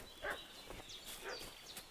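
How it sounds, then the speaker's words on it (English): A dog barks several times in the video game Kingdom Come: Deliverance II, with short, distant-sounding barks spread over a couple of seconds against outdoor game ambience. "I can hear the doggo barking."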